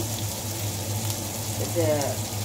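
Ingredients sizzle steadily in a pan while daliya and moong dal are cooked, a continuous close frying hiss with a brief bubbling burst near the end; a voice speaks faintly underneath.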